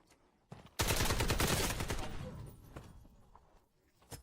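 A loud burst of rapid AKM gunfire in a video game erupts and rattles for about two seconds, then tapers off, with softer scattered sounds afterward.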